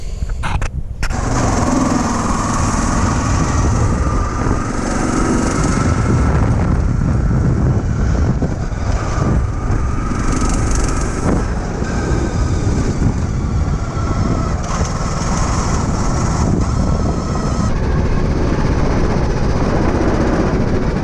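A vehicle with no differential and no brakes runs through a test drive, its engine droning loud and continuous with heavy wind rumble buffeting the microphone throughout.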